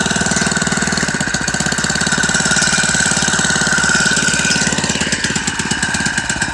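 A pull-start engine runs after being started, a loud rapid chugging close by that holds steady for several seconds with a slight dip near the end.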